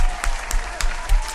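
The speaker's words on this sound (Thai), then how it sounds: "ขอเสียงปรบมือให้ผมหนึ่งทีครับผม" A short burst of clapping from a small group, brisk and fairly close, lasting just over a second.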